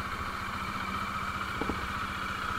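A Bajaj Dominar motorcycle idles with a steady, even mechanical thrum just after a cold start, its engine unwarmed after three months unused; the running is close and constant with no voices.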